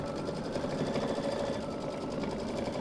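Embroidery sewing machine stitching a dark purple satin stitch on a Pysanky egg table decoration, a steady, rapid mechanical whir with fast regular needle pulses that runs on without a break and without any talk.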